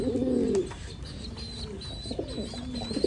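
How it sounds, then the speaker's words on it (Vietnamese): Pigeons coo softly in a coop with chicks under ten days old, a close low warbling coo at the start followed by fainter cooing and faint chirps. "Đây là chim bồ câu dưới 10 ngày tuổi nhé."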